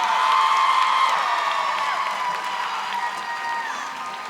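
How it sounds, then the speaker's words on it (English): An audience at a Texas poetry slam applauds and cheers for a poet, a loud burst of clapping with whoops and shouts that slowly thins over a few seconds. "Keep that applause going for your last poet in the first round"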